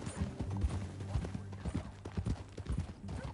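Horse hooves clip-clopping in the Western video game Red Dead Redemption 2, a steady rhythmic run of close hoofbeats with faint game ambience and no talk over it.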